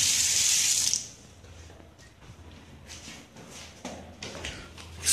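Tap water gushes loudly for about a second, then stops, leaving quiet room noise with faint knocks and shuffling sounds inside a house.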